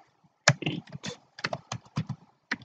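Computer keyboard typing while entering a name in a Windows 8.1 VirtualBox setup screen, a burst of close, crisp key taps in an uneven rhythm with short pauses between runs of keystrokes.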